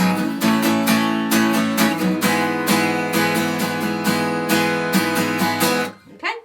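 Acoustic guitar strummed through the chord progression of a song, steady rhythmic strokes with sustained chords, fairly loud and close, ending in a brief fade and a small final pluck; no talking.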